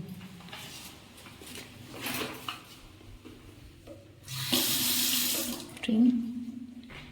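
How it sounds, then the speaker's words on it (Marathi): Tap water runs steadily into a wash basin in a small home, a broad hiss that swells louder partway through, with someone talking over it nearby. "बेसिन आहे आणि नळ चोवीस तास चालू असतं"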